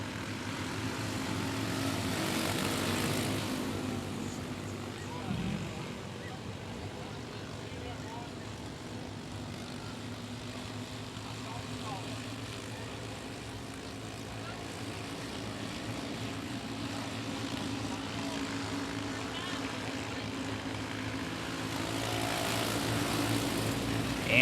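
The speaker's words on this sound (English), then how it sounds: "The start zone, we are green flag racing." Junior sprint cars race at a speedway under green flag, their engines a steady distant droning roar that swells and fades over the whole stretch, with an announcer talking throughout.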